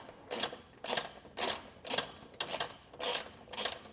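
A ratchet tightens a base plate fastener on a 2023 vehicle during a Roadmaster crossbar-style base plate install, giving seven evenly spaced bursts of close, crisp clicking.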